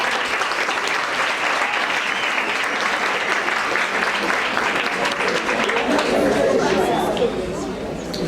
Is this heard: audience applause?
yes